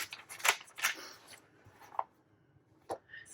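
Close, crisp snips of scissors cutting paper, a few quick cuts followed by scattered single snips in a quiet room.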